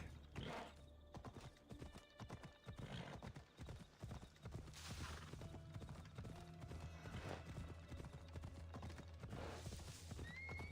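A horse's hooves clop unevenly over rock as it scrambles up a steep climb, with irregular scraping steps, a whinny and a person's brief voice mixed in.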